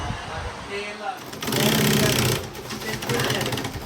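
Sewing machine stitching car seat covers in a seat cover shop, running in steady rapid bursts with a buzzing, hammering rhythm, close and loud, with workshop background noise.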